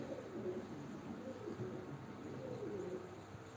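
Soft, steady cooing from performing pigeons kept for a show-bird auction: low, rolling murmurs repeat throughout, faint and somewhat distant, with no voices over them.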